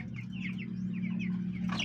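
Broiler chickens cluck softly and repeatedly over a steady low hum, with a brief sharper noise at the end.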